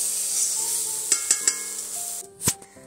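Chicken frying in oil in a karahi, a soft sizzle with a few sharp scrapes and clinks of a utensil stirring against the pan, close and fairly quiet, with no voices.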